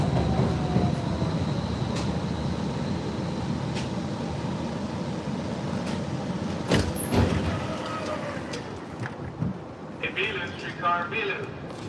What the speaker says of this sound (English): So you guys, that was the streetcar.